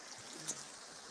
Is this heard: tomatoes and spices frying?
no